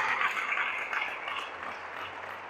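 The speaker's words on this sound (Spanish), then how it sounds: "¿Cuántos le dan un fuerte aplauso al Rey de Reyes y al Lord de Lores?" A church congregation applauds during a sermon: soft, hissing clapping that seems to come from a distance and slowly fades over a couple of seconds.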